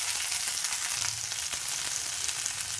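Mint and coriander leaves fry in hot oil in a pan, giving a dense, continuous crackling sizzle that stays loud and close throughout with faint scraping underneath.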